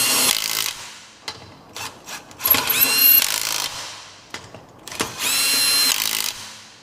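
A power tool, likely an impact gun, snugs the lug nuts on extended wheel studs of a G35 drift car. It comes in loud, close bursts, several short ones and then two longer runs, with brief pauses between them.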